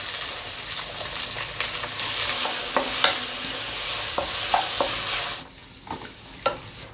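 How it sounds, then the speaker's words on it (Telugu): Onions frying in hot oil in a pan for Hyderabad-style green chicken curry, a loud continuous sizzle with occasional stirring scrapes and clicks, close, easing off near the end. "మనం ఆనియన్స్ వేసుకుందాం"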